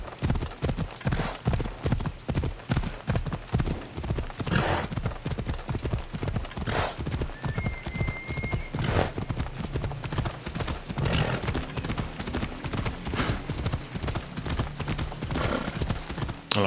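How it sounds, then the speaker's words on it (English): Horse hooves clip-clopping in a steady, even rhythm throughout while riding in Assassin's Creed Odyssey, with occasional whinnies and soft background game ambience. "It is sometimes nice just riding around on the horse, looking at the beautiful scenery rather than just teleporting to a place."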